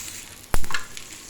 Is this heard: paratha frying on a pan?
yes